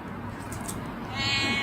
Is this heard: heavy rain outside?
no